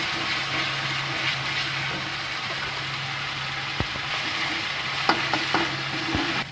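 Onion paste with ginger and garlic paste sautés in a pan for an egg curry with sour yogurt, giving a steady frying sizzle with a few sharp spoon clinks and scrapes against the pan.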